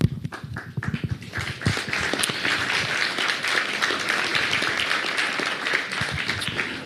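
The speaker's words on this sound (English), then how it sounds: "that's the last applause we're going to do after introductions" Audience applause after candidate introductions at a mayoral forum, with sharp individual claps at first that swell into steady, dense clapping from a room full of people, lasting several seconds.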